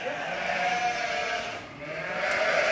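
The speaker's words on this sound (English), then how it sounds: "Martin, I'm going to go and have a look at the sheep." Sheep on a farm during lambing season bleat in a couple of wavering calls, moderately close, over a soft steady background.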